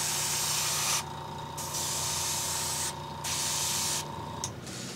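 Paint is sprayed in another coat, a steady broadband hiss in long bursts with brief pauses between passes, loud and close with no talking.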